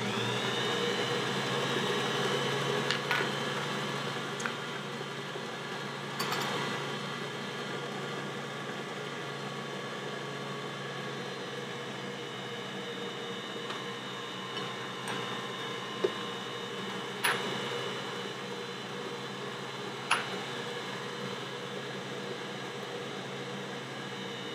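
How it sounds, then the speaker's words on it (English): A Bosch stand mixer runs steadily while mixing cookie dough, a continuous motor hum with whine, no talk, near and fairly loud, with a few faint clicks over the drone. "I'm gonna turn the mixer on"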